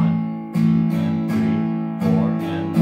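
Rhythm guitar strummed on the beats with added eighth-note upstrokes, a few ringing chord strums with sharp attacks, close and without voices.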